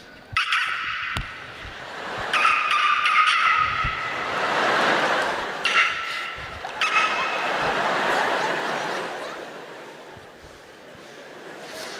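A comedian vocally mimics basketball shoes squeaking on a court, giving sharp repeated high squeals before a stand-up audience whose laughter swells loudly in between.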